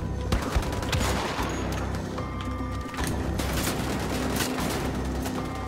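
Rapid gunfire in Wolfenstein: The Old Blood, a loud, continuous stream of shots with bursts of clustered cracks and heavy impacts, sustained throughout at close range.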